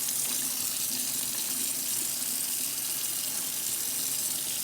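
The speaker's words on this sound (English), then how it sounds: "we're gonna use the water to separate the layers of lettuce" Water runs steadily from a kitchen sink tap while lettuce leaves are rinsed and separated beneath the stream, making a close, continuous splashing hiss with no talk.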